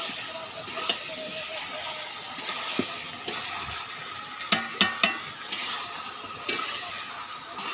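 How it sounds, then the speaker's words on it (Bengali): Meat being stir-fried in a pan at home on a hot day, a soft continuous sizzle and hiss broken by sharp clacks of a spatula against the pan, close and fairly loud, with no voices. "মাংসটা ভালো করে কষিয়ে নিলাম।"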